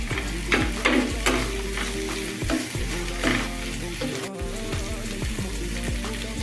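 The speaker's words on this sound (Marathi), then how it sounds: "तर आता याला आपण हाय फ्लेमवर थोडं सॉटे करून घेऊ" Onion and salad vegetables sizzle steadily in a hot pan on high flame, with repeated stirring scrapes and crackles, close and continuous without talk.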